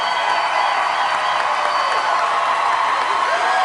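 A television talent show audience gives a standing ovation, a loud, dense wall of applause and cheering that carries on without a break, with scattered whoops mixed in.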